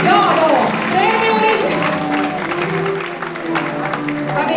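An audience applauds at a singing festival, steady clapping and crowd noise filling the hall while a presenter speaks over it in Italian.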